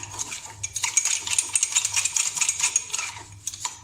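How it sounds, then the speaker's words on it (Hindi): A spoon beats coffee, sugar and water in a cup, giving a fast, steady stream of close metallic clinks and scrapes against the sides, loud and continuous with no voice. "लगातार इसी तरह से हम चम्मच चलाते रहेंगे"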